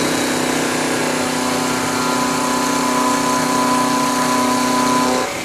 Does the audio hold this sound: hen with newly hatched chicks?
no